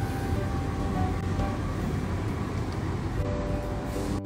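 A train in Malaysia runs steadily, its constant rumble and rattle filling the carriage, with a faint tonal hum and no speech.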